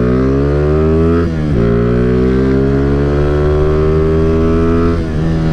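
Steady, loud running engine of a 2007 Honda CG 150 Titan motorcycle fitted with an aftermarket CDI, a continuous close-up drone with slight rises and dips in pitch.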